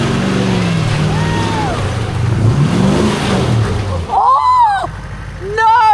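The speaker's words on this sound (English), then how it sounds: "We'll use our really expensive mic that we have right down near the car to hear the V8 Chev." A V8 Chev 4WD engine rumbles and revs on a rocky off-road track at Moonrock in NSW, rising and falling in pitch while people shout and talk over it.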